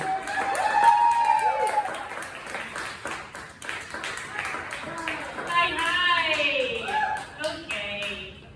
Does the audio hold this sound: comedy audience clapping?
yes